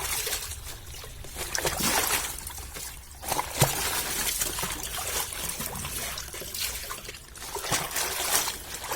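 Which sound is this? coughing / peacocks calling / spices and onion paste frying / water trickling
water trickling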